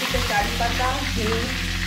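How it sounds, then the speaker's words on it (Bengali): Curry leaves crackle and sizzle in hot oil while nimki are being fried, a steady close-up frying hiss with a low background hum, and no voices. "এবার আমি এই তেলে কারি পাতাটা ভেজে তুলে রাখবো"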